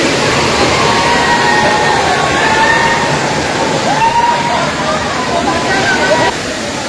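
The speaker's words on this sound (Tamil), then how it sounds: "தடா ஃபால்ஸ்" Tada Falls waterfall roaring steadily up close, a dense constant wash of rushing water that continues without a break, with faint voices mixed in.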